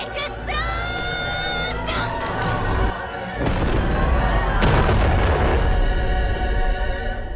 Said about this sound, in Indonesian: Ledakan besar pun terjadi, mengguncang seluruh area laut